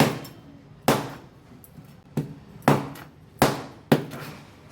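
Heavy knife chops cutting through a Halwa fish as its head is cut off, Agri-Koli style, five sharp, loud strikes at uneven intervals with short ringing decays between them.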